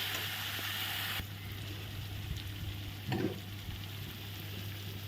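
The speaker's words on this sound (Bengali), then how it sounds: "স্বাদ মতো হলুদ সব মশলা দিয়ে ভালো করে আগে কষিয়ে নেব" Salt, turmeric and ground spices sauté in a hot pan with a constant hiss that drops suddenly after about a second, then settles into softer frying with a brief stirring scrape midway.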